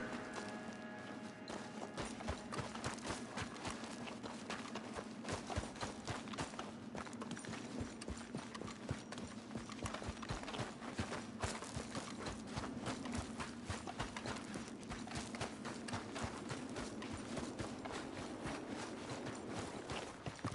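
Horse hooves clip-clop in the video game Red Dead Redemption II, a steady, rhythmic trot of hoofbeats that keeps going the whole time at moderate volume over a soft background wash.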